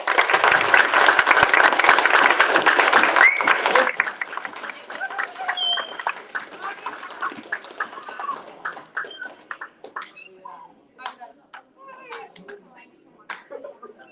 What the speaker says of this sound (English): let's give Abir a round of applause.